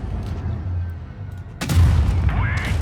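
An FV215B heavy tank cannon booms in a tank video game, one heavy blast arriving after quieter low engine rumble and trailing into a rolling echo, with a brief rising whine afterward.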